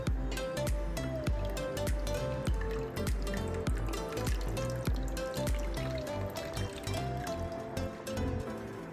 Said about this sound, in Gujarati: અને કપડું ભેગું કરી અને નીચવી નાખશું થોડું